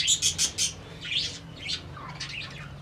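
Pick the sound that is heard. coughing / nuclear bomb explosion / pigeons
pigeons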